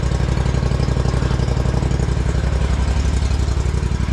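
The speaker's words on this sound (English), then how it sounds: "Bring the blower on out." A small gas engine on a blower runs at a steady, loud, even drone with a rapid pulsing beat while equipment is being cleaned, continuous and close with no talk.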